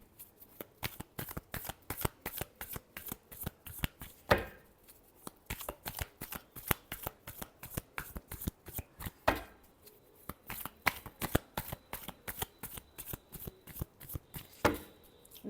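Tarot cards shuffled by hand in quick, rhythmic bursts of crisp flicking and slapping, close and clear, with a few short pauses between runs.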